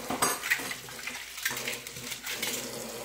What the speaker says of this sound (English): Then I rinse off the rest of my cutlery.